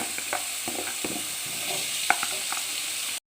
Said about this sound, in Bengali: এবার আগে থেকে কেটে রাখা আলুর টুকরোগুলো তেলের মধ্যে দিয়ে দেবো